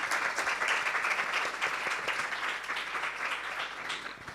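Audience applause follows a Spanish-language literary talk about a National Book Award-winning book, steady dense clapping from a full room at moderate distance, sustained evenly throughout with no voices over it.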